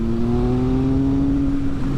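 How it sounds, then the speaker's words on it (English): Steady, loud exhaust drone of a 2016 Triumph Speed Triple R motorcycle ridden on bumpy British B roads, a low, even engine note holding without a break. "all I can hear is that silly exhaust"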